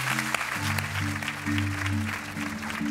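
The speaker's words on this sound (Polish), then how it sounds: "Brawa dla Anity." A studio audience on a television brain-skills show applauds for a contestant, a steady wash of clapping with a musical sting playing underneath.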